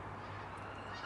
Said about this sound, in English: there's a couple of geese flying over